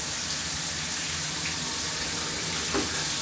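Rainfall shower head running in a cruise ship cabin shower aboard the Carnival Jubilee, a steady close hiss of spraying water filling the whole clip with no talk.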